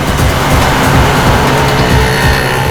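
In a chase, a fleeing car races away with a loud, steady engine roar and heavy road noise that stays close and unbroken throughout.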